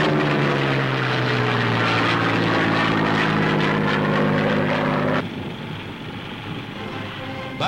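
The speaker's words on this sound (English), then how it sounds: "United States planes attack enemy shipping." WWII American carrier-based fighter planes roar over Tarawa with a loud, steady propeller-engine drone, which drops to a lower, quieter rumble partway through as they pass.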